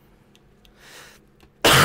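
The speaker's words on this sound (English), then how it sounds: "Forgive me for coughing so much." One sharp, loud cough bursts out abruptly at the end after a quiet stretch with a faint breathy rustle.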